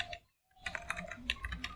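Typing code on a computer keyboard: a brief burst of clicks, a short pause, then a quick run of close, moderately soft keystrokes in an uneven rhythm, with no talking.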